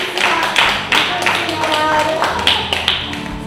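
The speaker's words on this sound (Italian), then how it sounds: "Applausi a Lidia." Applause at an Inner Wheel club collar-passing ceremony in Paglieta, clapping hands in uneven bursts close by, mixed with voices in the room.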